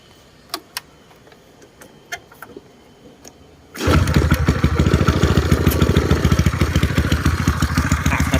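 A Honda Wave 125 with a tuned engine and exhaust starts after a few faint clicks, then settles into a loud, close, steady idle with a rapid even putter.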